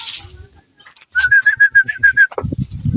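A racing pigeon gives a rapid run of clear, repeated whistled calls, with soft rustling and low thumps in the background.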